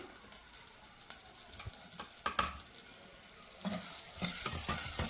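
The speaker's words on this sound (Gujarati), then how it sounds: "અને પછી ડુંગળી નાખી દઈ" Onions frying in a pan for a green-masala dish hiss softly, with a spoon scraping and clicking against the metal at intervals, close but quiet and without talk.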